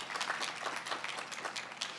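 An audience applauds for Allison Perlman of the Department of Art at a College of Environmental Design commencement, a steady, even wash of clapping from many hands filling the whole stretch.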